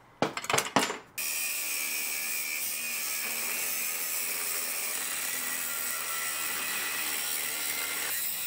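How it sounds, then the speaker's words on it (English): A power saw cuts through square steel tubing, a short piece being taken off, with a few sharp knocks at the start before a loud, steady grinding whine runs on alone. "I'm gonna go ahead and cut about a 4-inch piece of this tubing off"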